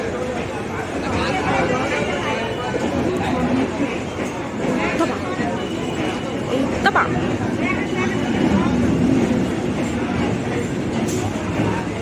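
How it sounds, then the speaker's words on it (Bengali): A train rolling into a station, a loud continuous rumble and rattle of wheels and carriages close by throughout, with people chattering on the platform. "এই যে আমাদের ট্রেন ঢুকে গেছে, ঢুকে গেছে ট্রেন"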